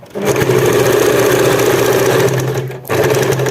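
Sewing machine stitching close to a corner while making a sofa cover, a loud steady mechanical whir that runs for about two and a half seconds, briefly stops, then starts up again.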